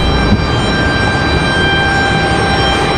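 Steady jet engine roar at Raleigh-Durham International Airport, a continuous broadband rumble with a faint whine on top, holding even and fairly loud throughout with no talking.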